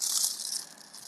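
Aluminium foil crumpled and bent by hand, a brief close crinkling rustle that starts loud and bright and then fades slightly, with no talking.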